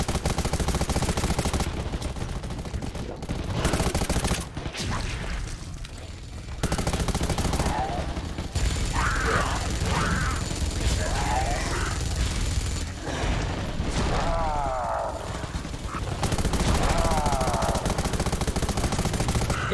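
Explosions and bursts of gunfire in the video game Undawn come as loud, broken volleys of shots and booms through a chaotic firefight, with short gaps between bursts.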